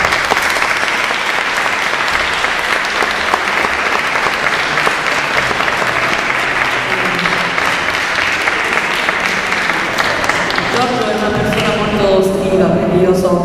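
Loud, dense applause fills the room at an art exhibition opening, steady for most of the stretch before a voice begins speaking near the end.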